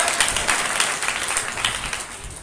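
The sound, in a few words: audience clapping at a meeting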